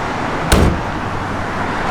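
A single door of a 1969 Chevrolet Chevelle SS convertible thuds shut outdoors, one short solid slam standing out over steady wind and traffic-like background noise.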